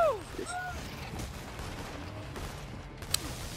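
Gunfire in the video game Infamous Second Son, a few scattered shots and bursts in the background of game ambience, with a sharper crack near the end.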